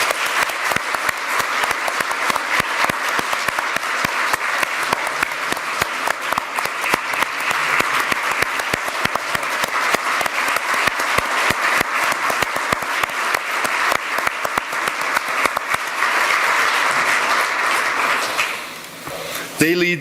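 An audience gives a sustained round of applause at an organization's gathering, many hands clapping in a dense, even rhythm for a long stretch before tapering off near the end.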